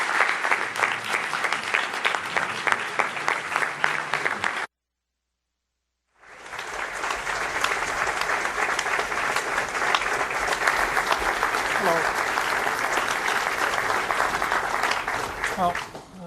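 An audience at a Young America's Foundation event applauds to welcome Speaker Newt Gingrich, with sustained crackling clapping from a crowd, a brief silent gap, then louder continued applause.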